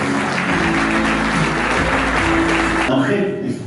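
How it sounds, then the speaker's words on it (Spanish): An audience claps at a public event in Carhuaz, a broad wash of clapping that runs under a steady hum and tonal background, with no talk over it, then drops off near the end. "Fuerte las palmas."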